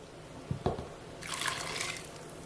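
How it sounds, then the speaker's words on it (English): Blended lime juice with peppers and salt pours from a container onto raw shrimp for ceviche, a soft liquid splash and trickle after two light knocks, close and quiet. "Now that I have blended my limes with my peppers and salt, I'm going to add this directly to my raw shrimp."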